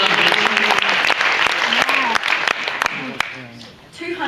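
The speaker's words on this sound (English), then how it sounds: "Give it a round of applause." A studio audience at a mental arithmetic quiz show claps in a steady burst that gradually thins, while a voice talks over the applause.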